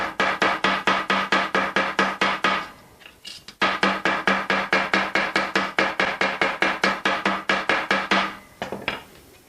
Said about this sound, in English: I can hammer this out till it's just like it was in the beginning.